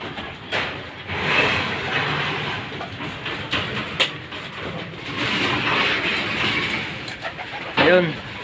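Pet pigeons stir and flutter after a heavy rain, their soft sounds mixed into a busy, noisy outdoor background with occasional clicks and thumps, and a short rising squeak near the end.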